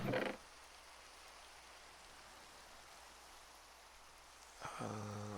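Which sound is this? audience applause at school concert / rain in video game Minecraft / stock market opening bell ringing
rain in video game Minecraft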